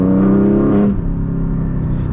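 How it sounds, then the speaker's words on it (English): Engine of a 2023 Porsche 718 Boxster Spyder with a DeMan 4.5 hot-rodded upgrade, a loud rising revving pull heard from the cabin that cuts off sharply, then settles into a lower steady drone. "It's a hot-rodded Porsche engine."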